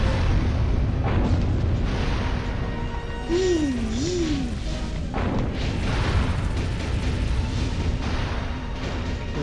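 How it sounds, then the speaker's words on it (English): Sonic boom weapon in the alien-invasion game Destroy All Humans!, a series of heavy booming blasts with rumbling crashes and a warbling sweep in between, loud against steady battle noise. "I'll use the sonic boom. Sonic boom!"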